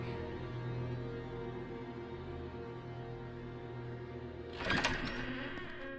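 An old, very loud UV light gives a steady buzzing electrical hum with strong tonal layers throughout. A door opens near the end with a short, scraping clatter over the drone.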